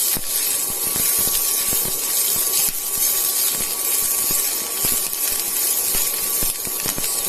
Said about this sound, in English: You just have to saute a little.